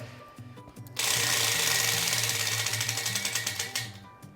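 A prize wheel spins and clicks at a quilting summer camp, a rapid ratcheting rattle that starts abruptly, then slows into separate ticks as it winds down.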